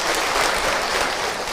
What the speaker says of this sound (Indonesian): tepuk tangan untuk orang tua.